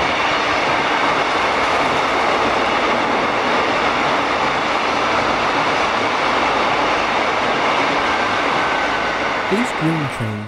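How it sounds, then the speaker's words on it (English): An Irish Rail Class 2900 diesel multiple unit train rumbles past close by with a steady, loud roar of engine and rolling wheels for several seconds, easing off at the end with a faint squeal. "These green trains are Irish Rail Class 2900 Diesel Multiple Units, or DMUs."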